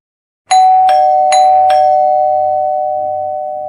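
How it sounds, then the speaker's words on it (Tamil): A doorbell chimes with four quick bright strikes, then a sustained ringing tone that slowly fades, loud and close. "காலிங் பெல் சவுண்டு கேட்டுச்சு."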